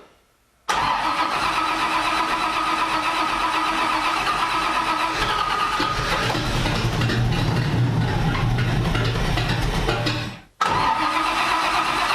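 A car engine cranks and fires on a 23-year-old NASCAR ignition system fitted with a Blaster 2 coil, then runs loud and steady at close range for about ten seconds, cutting out briefly before catching again.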